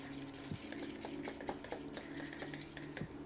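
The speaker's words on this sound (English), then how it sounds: "And now we whisk." A whisk beats a mixture in a bowl during sushi-roll preparation, giving quick irregular scrapes and light clinks against the bowl over a low kitchen hum, with no voices.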